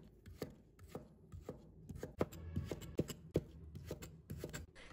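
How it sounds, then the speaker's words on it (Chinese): A knife cuts a peeled potato into thick slices and then thick strips, striking the board in a steady series of sharp, close thuds with no voices. "先把它切成厚片， 再切成粗一点的土豆条"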